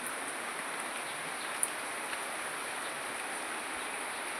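Rain falling outside a house on a dark afternoon, a faint, even hiss of steady rainfall with one tiny tick midway.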